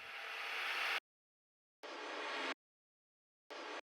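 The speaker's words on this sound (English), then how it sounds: "I also have some reverse crashes like this." Reverse crash cymbal samples in a bass music production: three separate swelling washes of bright noise, each rising and cutting off abruptly, the first longest and the last shortest, quiet and alone.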